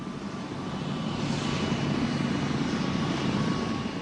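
A helicopter drones steadily overhead with an even, continuous rotor and engine roar at moderate distance, and no voices.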